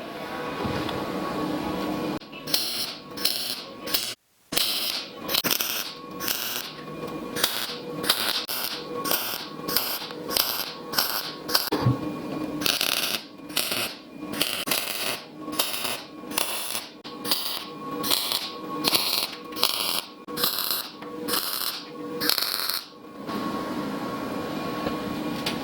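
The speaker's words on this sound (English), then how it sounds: "And then we go all the way around the perimeter and spot weld or tack weld it to the bottom." Tack welding around the perimeter of a metal cart: repeated short bursts of crackling, buzzing arc spaced by brief pauses, close and fairly loud, with no one talking.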